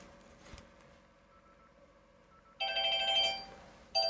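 After a quiet stretch, a public telephone in Japan rings on an outgoing call with a bright electronic trill, pauses briefly, then begins a second ring.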